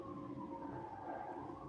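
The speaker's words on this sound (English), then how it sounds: "Hear the sirens in the background." Emergency vehicle sirens wail faintly in the distance, a steady rising and falling tone under a low background hum.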